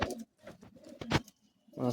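Madrasi high flying pigeons coo in short, soft bursts close by, a few throaty calls separated by brief gaps, quiet and alone.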